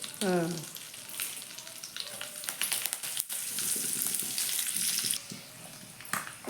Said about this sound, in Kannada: ಅದಕ್ಕಾಗಿ ನಾನು ಒಗ್ಗರಣೆ ಕೊಡ್ತೀನಿ